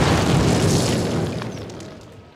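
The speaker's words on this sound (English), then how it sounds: "Fire in the hole!" A loud explosive blast tears through a cinder block wall in Call of Duty, a heavy boom that rolls on and fades over two seconds without any voices.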